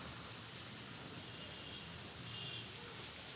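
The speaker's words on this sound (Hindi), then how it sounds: "बारिश देखिए कितनी तेज़ हो रही है, बहुत तेज़ से है बारिश आज" Heavy monsoon rain falling steadily as a faint, dense, even hiss of drops on surfaces, with no break and no voices.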